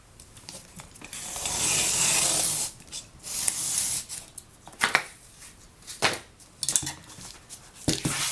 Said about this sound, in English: And I'll cut the box off.